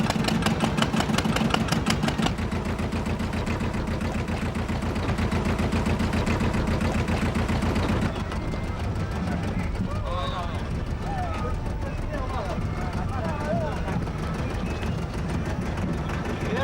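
A fishing boat's engine chugs in a steady, rhythmic idle as it pulls away from the shore, then fades to a softer hum while a voice talks over it.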